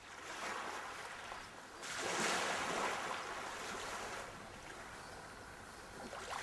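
Ocean waves wash onto a beach in a steady, close rush of surf, swelling and fading gently, with wind and no voices.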